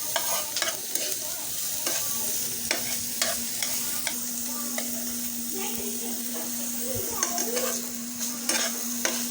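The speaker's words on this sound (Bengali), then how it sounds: "এই পাশ থেকে এগুলোকে ভেজে নেব।" Chilies, onion and garlic frying in a pan, a steady loud sizzle broken by repeated scraping stirs, with no talking.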